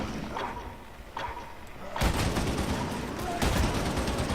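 Gunfire in the video game Warhammer 40,000: Darktide, with sparse thumps at first and then sustained loud bursts of rapid shooting and heavy impacts in the second half.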